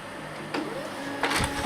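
Samsung ML-1675 laser printer printing a test page: a steady mechanical whir with two louder surges of feed and roller noise, close and alone with no talk.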